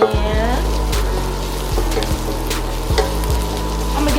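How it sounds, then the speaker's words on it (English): Onions frying and being stirred in a pan, a loud continuous sizzle with a low rhythmic scraping as they are moved around, several strokes repeating through the stretch. "I don't want these onions to get away from me, so I'm gonna just keep cooking, keep moving them around in the pan."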